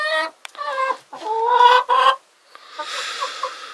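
Polish hen and rooster cluck and squawk close by, a few loud harsh calls in quick bursts followed by a noisier scuffling sound.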